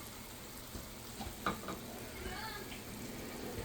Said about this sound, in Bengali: এগুলো দিয়ে দিলাম এখন কষিয়ে নেব